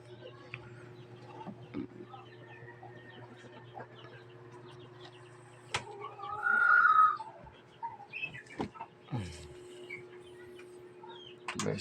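Backyard chickens cluck in short, scattered bursts at moderate distance over a steady low hum, with one louder squawking flurry midway and a few sharp knocks.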